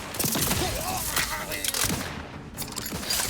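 Gunfire from a weapon in the video game The Outer Worlds 2, a few sharp shots in quick succession with a brief lull, mixed with game sounds and a voice.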